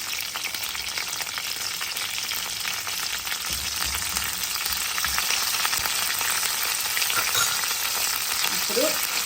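Curry leaves and dried red chilies spluttering in hot oil for a small bitter gourd fry: a steady, loud crackling sizzle with occasional stirring scrapes, close and continuous throughout.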